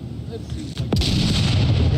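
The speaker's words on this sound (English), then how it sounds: "Gunfire comes out." Gunfire in a competitive video game match, a sharp, heavy shot cracking out about a second in over a rumbling, noisy background that stays loud afterward.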